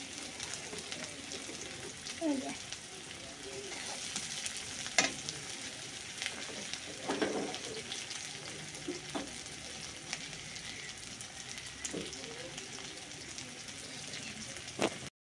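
Onions fry in a pan for shrimp curry, a light continuous sizzle broken by scraping stirs and small clinks of the spoon, close and moderately quiet with no talk.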